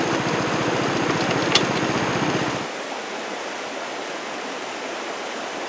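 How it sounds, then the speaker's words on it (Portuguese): A stream flows strongly beneath a wooden bridge, a steady loud rushing roar with an engine-like throbbing rumble underneath for the first few seconds, after which the rumble drops away and only a quieter, even water hiss remains. "Vou mostrar aqui que a água está passando aqui, como diz, de com força."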